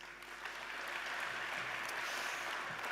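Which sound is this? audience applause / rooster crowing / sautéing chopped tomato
audience applause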